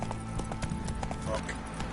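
Hooves of Roach, the horse in The Witcher 3, clop in a quick regular rhythm close by, mixed with game music and a voice speaking briefly over them.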